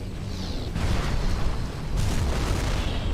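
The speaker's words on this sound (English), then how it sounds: "Let's charge up the cannon!" A mech's charged cannon firing in the MechAssault video game, heavy booming blasts at about one second and again near two seconds over a constant low rumble, with no talk.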